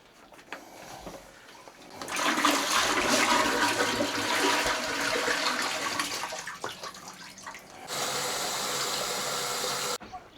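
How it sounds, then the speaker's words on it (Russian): A toilet at a campsite dump station flushes with a loud rushing gush of water that swells, drains and gurgles, then a second steady hiss of refilling water follows before cutting off. "Вот унитаз для слива."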